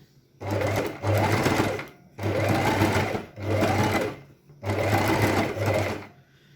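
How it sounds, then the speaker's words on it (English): A sewing machine stitches along the edge of a fabric pencil case in five or six close, loud bursts of rapid mechanical whirring, separated by short pauses. "You're going to sew right on the edge there as best you can."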